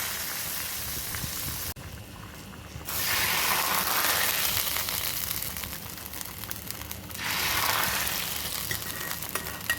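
A hot tempering of mustard seeds and dried red chillies poured into a Mangalore-style jackfruit curry, giving a continuous soft sizzle that surges twice in bubbling waves, heard alone without voices.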